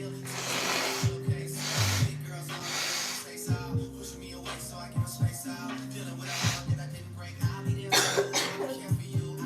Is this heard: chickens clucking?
no